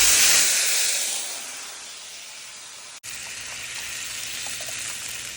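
Hot tempering spices hit rasam in a pan with a loud, bright sizzle that quickly settles into a softer, steady hiss.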